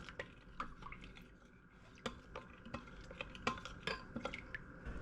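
A spoon stirring soy sauce and honey in a small dish, quiet rhythmic ticks and light clinks against the dish at a steady pace, faint and close.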